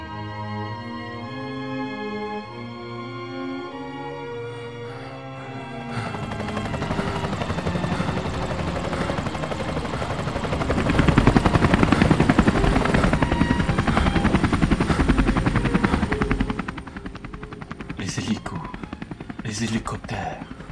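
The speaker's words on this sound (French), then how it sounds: "Hélicoptères." A helicopter's rotor chop grows loud and steady after music fades, thudding close overhead for several seconds before easing off.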